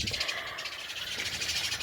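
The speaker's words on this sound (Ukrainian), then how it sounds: "Розпівалися пташки, горобці щось не поділили." A dense, noisy chorus of chirping sparrows, continuous and fairly close, with overlapping calls and no talking, outdoors in the morning.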